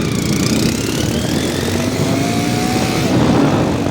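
A motorcycle engine running loud and close, a constant rough rumble with a faint rising whine and no pause.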